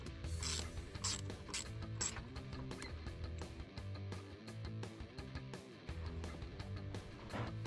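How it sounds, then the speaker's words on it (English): A 10mm socket on a ratchet clicks rapidly in bursts while a car battery is disconnected, the pawl ticking close and steady under a faint hum. "Then you'll disconnect your battery using a 10mm socket"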